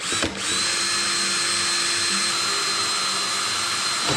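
Power drill boring holes in a Ford Mustang S550 bumper during a splitter install, a close, steady high-pitched whine that starts after a brief click and holds constant throughout.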